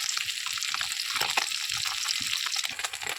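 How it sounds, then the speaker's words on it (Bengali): Steady, crackling sizzle of small bata fish frying crisp in hot oil, continuous and close, with occasional louder spits and pops. "ছোটো ছোটো মাছটা একটু ভালো করে কড়া কড়া করে ভাজতে হবে"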